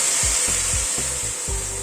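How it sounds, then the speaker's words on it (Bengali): Mung dal pours into a hot frying pan, raising a steady, loud sizzling hiss, with soft low thumps and short tonal sounds beneath it. "ডালটা ঢেলে দিলাম।"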